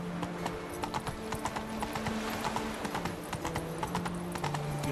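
Hoofbeats of a horse galloping in The Witcher 3: Wild Hunt on PS5, a steady rapid clip-clop with an occasional whinny, set against a constant game ambience and music.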